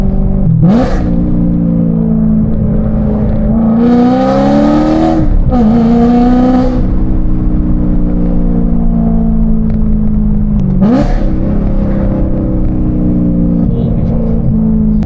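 A loud BMW M3 engine with an aftermarket exhaust revs repeatedly, rising and falling in pitch with sharp throttle blips, close by and continuous.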